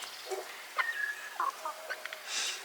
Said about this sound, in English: Cute chicken as well, the one that you've got.